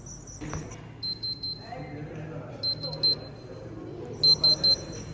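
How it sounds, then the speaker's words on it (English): A small buzzer on a raindrop-sensor circuit sounds in short bursts of high electronic beeps, first in groups of three and then two pairs and a final set of three, with a low background hum in between. "the buzzer beeped when the sensor detects raindrop."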